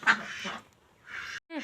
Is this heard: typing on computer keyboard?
no